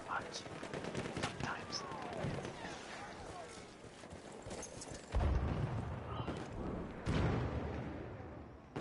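Rapid gunfire from the Hellriegel submachine gun in a first-person shooter game, a dense continuous burst of shots with heavier thumps, amid other battle noise and players talking over it.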